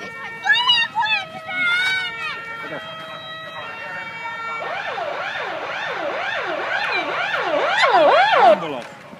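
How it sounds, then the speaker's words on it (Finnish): An ambulance siren from a volunteer fire brigade demonstration wails loud and close in a rapid rising-and-falling sweep, preceded by brief shouts and other sounds. "Ambulanssi."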